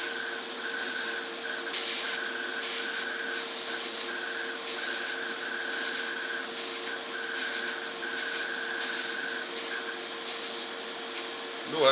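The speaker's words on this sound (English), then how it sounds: "No issues at all spraying it." Repeated bursts of airbrush spray hiss applying Badger Stynylrez black water-based acrylic polyurethane primer, about a dozen short pulses in a steady rhythm, close and fairly quiet over a faint steady compressor hum.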